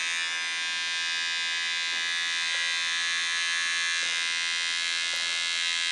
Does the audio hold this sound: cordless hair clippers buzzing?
yes